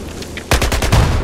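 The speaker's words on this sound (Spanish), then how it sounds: "Y la explosión brutal." Battlefield 4 combat: a loud burst of rapid gunfire and explosive blasts erupts suddenly after a quieter stretch, several sharp cracks in quick succession, close and dominant.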